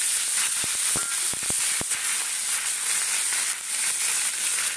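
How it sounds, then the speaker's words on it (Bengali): Onion, tomato and chili fry in hot oil with a loud, continuous sizzle and scattered sharp crackles and pops, close up and without talk. "পেঁয়াজ, টমেটো আর লঙ্কা একসঙ্গে দিয়ে দিলাম।"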